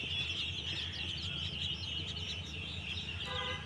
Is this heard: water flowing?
no